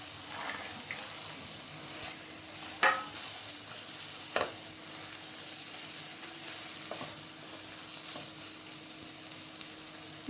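Eggs and anchovies frying in a pan for a curry, a steady sizzle with occasional clinks and scrapes of stirring, close and moderately loud, no talking.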